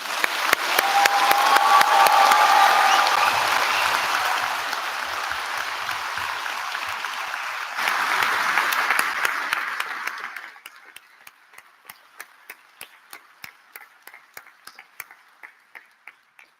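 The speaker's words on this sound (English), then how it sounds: "And we'll have our final round of applause." A graduation audience claps in a long, dense burst of applause that swells again midway, then thins to a few scattered separate claps as it dies away.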